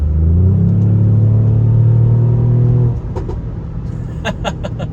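A Mercedes-AMG GLE 43 SUV engine drones loudly and steadily while driving, the tone rising as it pulls, then the note drops away into a softer rumble with some clicks.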